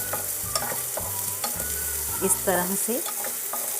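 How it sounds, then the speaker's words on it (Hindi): Sliced onions sauté and sizzle steadily in a hot pan while being stirred, close and fairly loud, with a few brief spoken words over the frying. "फिर हम डालेंगे उसमें प्याज, प्याज को हम भूनेंगे"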